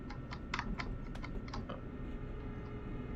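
Computer keyboard keys pressed repeatedly during a train simulator session, a run of quick, close clicks and taps scattered over a steady low rumble of engine and track noise.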